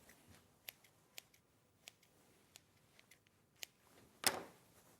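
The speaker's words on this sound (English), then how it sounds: "let me just get some scissors" Scissors are handled at a sewing table, giving faint, sparse metallic clicks and ticks spread out over several seconds, with one louder snipping rasp near the end in a quiet room.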